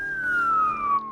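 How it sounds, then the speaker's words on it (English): A blast warning siren at the Kennecott mine, a single loud steady tone sliding slowly downward in pitch over about a second, heard alone. "Before each blast, a siren is activated and a mine-wide announcement is made on the mine radio frequencies."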